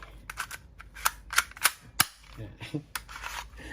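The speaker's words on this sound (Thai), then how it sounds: "หนึ่งปืนหนึ่งเก็บเสียงหนึ่งแมกกาซีน แต่เป็นอารมณ์ซักยิง ทีละนัดนะครับ" A suppressed gas-powered airsoft pistol fires single shots, a handful of sharp muffled pops at irregular intervals over a faint background, with soft mechanical clicks between.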